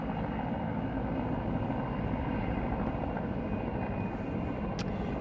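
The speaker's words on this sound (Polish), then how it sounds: "Helikopter." A constant low, heavy rotor rumble fills the scene, steady and loud throughout, as a helicopter passes overhead during an August heat wave.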